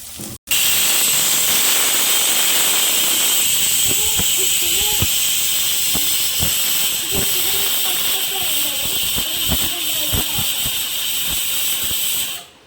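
Chicken pieces drop into hot coconut oil with curry leaves, setting off a loud, continuous hiss and sizzle that holds steady for several seconds, with a voice speaking faintly underneath.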